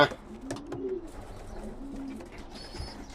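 Pigeons cooing in a pigeon loft holding young birds, soft repeated low coos close by with a few faint chirps, while someone talks over them.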